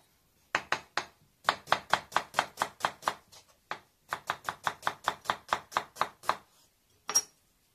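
A knife slices through an onion on a cutting board in quick rhythmic bursts of crisp chops, about two dozen strokes in groups separated by short pauses, close and clear with no talking.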